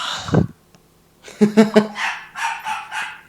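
A dog barks close by, starting with one sharp bark, then after a pause a quick burst of three barks followed by several more yips and whining calls.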